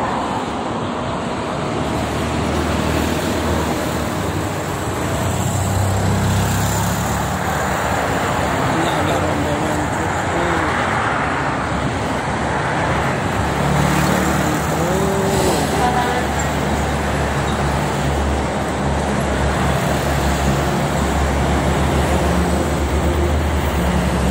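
Traffic on the Jakarta–Cikampek toll road, a dense continuous roar of passing cars and vehicles mixed with wind, loud and steady throughout with no clear breaks.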